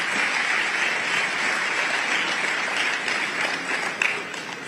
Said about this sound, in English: I think that calls for a big round of applause